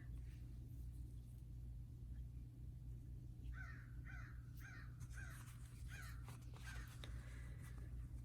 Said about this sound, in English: The crows are out again.